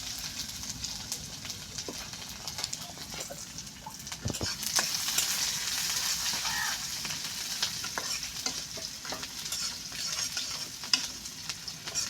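Chopped onion fries in a pan with a constant soft sizzle and crackle, scattered small pops and a clink or two of a utensil throughout.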